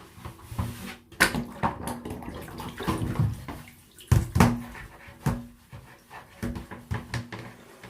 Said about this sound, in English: Filthy dirty bath water and a few dead spiders going down the plug hole